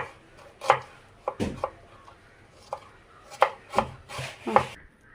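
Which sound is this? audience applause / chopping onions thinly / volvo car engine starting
chopping onions thinly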